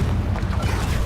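Confringo fire spell explosion in Hogwarts Legacy, a short loud low-heavy burst and rumble with no voice over it.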